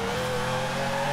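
A Ferrari 599 GTB Formula Drift build with a 1500 hp engine revving hard during a clutch kick in Forza Horizon 4, a loud steady high engine note held for about a second.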